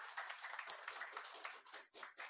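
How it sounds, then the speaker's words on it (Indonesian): Audience applause at an Eid halal bi halal gathering, brisk continuous clapping from a crowd, fairly faint and with a short dip near the end. "tepuk tangannya jangan keras-keras"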